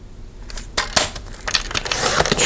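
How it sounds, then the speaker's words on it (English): A paper trimmer slices excess paper off a frosted tab divider for a personal planner, giving a few sharp, close scraping cuts and clicks in quick succession, moderately loud with no talking. "Then I'm just going to trim off the excess here."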